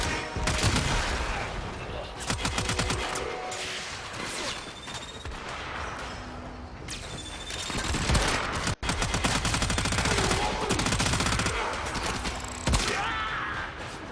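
Bursts of Tenora rifle fire in Warframe, a video game, rattle loud and close as rapid automatic volleys, with short pauses between strings, mechanical clicks and a few sharp single shots.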